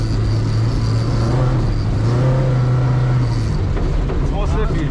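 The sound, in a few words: rally car accelerating on an ice track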